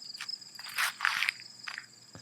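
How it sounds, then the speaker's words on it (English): Insects chirping outdoors on a muggy, rainy morning, a steady high-pitched buzzing drone with a few brief rustles and clicks mixed in, moderately near and fairly quiet. "You can hear the bugs."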